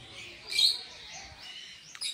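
Parrots, including yellow, green and blue birds, chirp in a zoo aviary at Nandanvan Zoo, Raipur, with a few sharp high tweets over faint background murmur and no clear talking.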